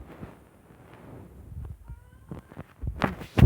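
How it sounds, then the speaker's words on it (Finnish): A cat meows briefly in a short faint call, set among scattered knocks, taps and clicks that grow louder toward the end. "Kissakin maukuu nyt tossa."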